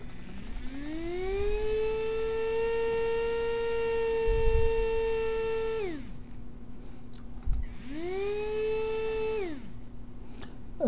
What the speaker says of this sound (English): You see the motor is changing the direction.